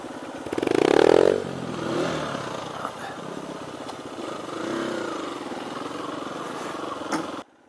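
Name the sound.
dirt bike riding, shifting up to second gear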